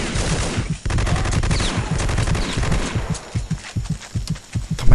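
Gunfire in the Vietnam War game Vietcong: heavy, sustained automatic fire with overlapping bursts, loud and close, with dense rapid shots hammering through to the end.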